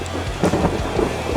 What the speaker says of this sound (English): And the rainstorm is coming.